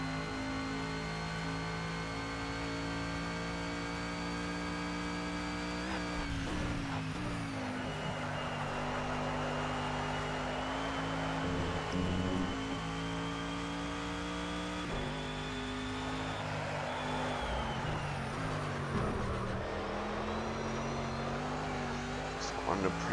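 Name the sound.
Mercedes SLS GT3 race car engine at Bathurst, Project CARS video game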